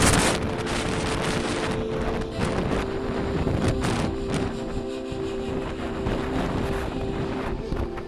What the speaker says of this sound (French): Le vent glacial soufflant autour de moi fait baisser la température rapidement.